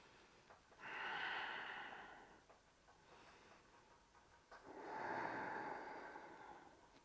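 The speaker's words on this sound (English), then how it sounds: "breathing out." Two long, deep exhalations during a yoga flow, each a broad airy rush of breath lasting about two seconds, close and clear, with quieter breathing in the gap between them.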